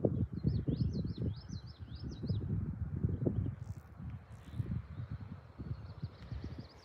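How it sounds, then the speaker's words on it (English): Small birds chirp in quick repeated trills from a short distance along the Blue Ridge Parkway on a calm day, riding over a steady low rumble of wind or passing traffic. "Can hear the birds chirping."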